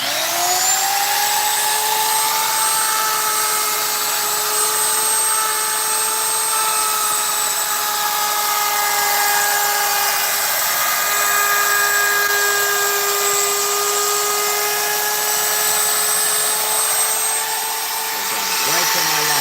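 Power router cutting into a guitar body gives a loud, sustained high whine with a steady pitch for most of the run, then spins down near the end.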